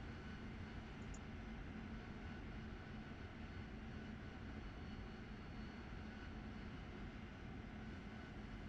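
Jet aircraft engine in the DCS flight simulator game, a faint, steady airy roar with low rumble that continues evenly throughout with no distinct change in pitch and no speech.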